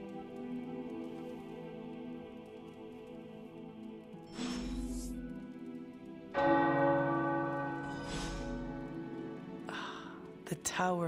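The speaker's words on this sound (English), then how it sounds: "The tower bells are ringing." Tower bells in Marvel's Midnight Suns toll in a few struck peals, each ringing out and decaying, heard under and between a player's talk.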